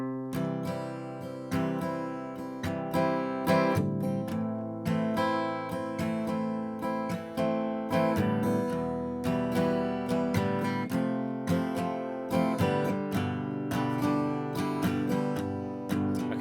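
Easy acoustic guitar chords for the verse of a song, strummed in a steady unhurried rhythm with clear ringing strings, close and alone throughout.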